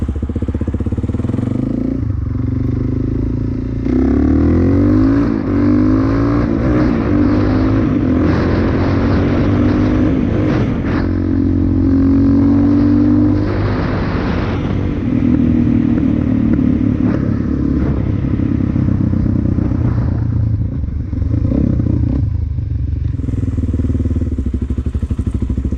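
A Suzuki DRZ400S motorcycle engine runs loud and close, idling and then revving repeatedly in rising and falling sweeps with some popping on the throttle. The bike's condition is not fully fixed. No one speaks.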